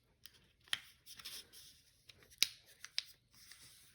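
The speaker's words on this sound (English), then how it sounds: "I'm going to fold it back so that I can see the line." Paper being folded and creased for a Mother's Day craft, soft crinkling and rustling with a few sharp crisp snaps close by, fairly quiet and without talk.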